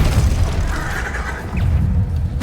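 A Bombarda blasting spell from Hogwarts Legacy erupts as a loud, dense boom that fills the whole clip, with a sharp crack near the end and no speech.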